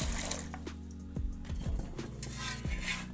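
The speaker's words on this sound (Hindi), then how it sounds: "ये पानी हम बॉईल करने के लिए डाल रहे हैं" Water is poured into a pot to boil four dozen eggs, giving close splashes and bubbly, dripping gurgles in uneven bursts.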